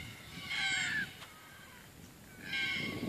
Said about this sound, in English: Listen to those birds, huh? They're quite incredible.